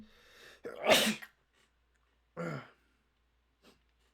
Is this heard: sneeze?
yes